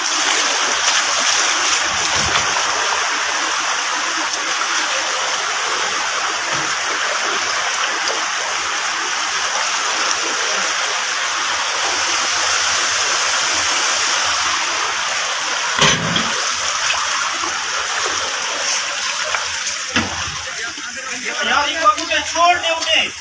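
Floodwater rushes loudly and constantly during the 2022 Balochistan flood in Pakistan, a broad roaring wash like a torrent, while people talk over it.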